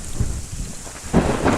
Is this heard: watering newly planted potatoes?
no